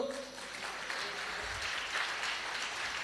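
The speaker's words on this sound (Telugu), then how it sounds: "ఒకసారి చప్పట్లు కొట్టండి అందరూ" A congregation at a gospel prayer fellowship in Nellore claps hands together, a steady wash of moderate applause filling the room without pause.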